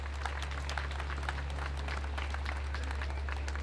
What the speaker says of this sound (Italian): un applauso fortissimo a tutti